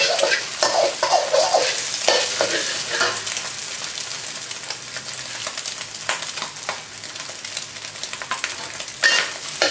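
Egg fries in a pan for Chinese kale and salted fish fried rice, with a loud, crackling sizzle close by and busy spatula scrapes and clinks that come thickest at the start and near the end.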